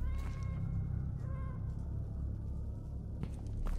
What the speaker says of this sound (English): Okay, I definitely heard a cat that way.